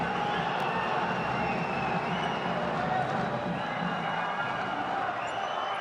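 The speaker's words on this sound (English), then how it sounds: "The crowd building to a crescendo with 30 to go." A packed arena crowd at an Asian championship wrestling final roars and applauds in a dense, unbroken wall of noise, with a commentator's voice running over it.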